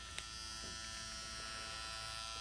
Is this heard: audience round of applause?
no